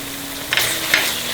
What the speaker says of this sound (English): the almond and tomato puree has been frying for 2 minutes